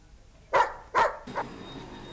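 Stray dogs on a city street in old Kathmandu bark twice in quick, close succession, followed by a softer third yelp.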